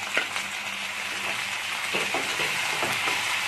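Prawns frying in a pan with garlic and green chili, a close, bright sizzle with scraping stirs and light pops running under the steady hiss.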